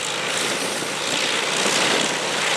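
An Allison aircraft engine roars continuously at close range, a dense, steady propeller drone with no pauses or voices.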